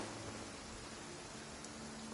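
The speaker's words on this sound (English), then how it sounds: "Why is it raining?" Steady, quiet rainfall in the video game Genshin Impact, a soft even hiss of in-game rain with a faint low hum beneath, continuous and free of speech.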